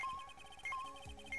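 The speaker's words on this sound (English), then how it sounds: "That's the sound of the beeping metal detector bouncing." A metal detector beeps in the Phoenix Wright: Ace Attorney – Trials and Tribulations video game, giving short, faint electronic chirps that repeat a few times over a quiet background hum.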